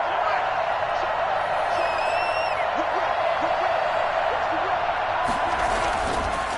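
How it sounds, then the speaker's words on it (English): Steady, dense stadium crowd roar from a Madden football video game during a two-point conversion, loud and continuous throughout, with a brief whistle-like tone and a swell of noise near the end. "Listen to this crowd now."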